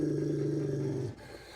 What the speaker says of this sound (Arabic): هيدا كان صوت كلب جديد طلع من خلف الأعشاب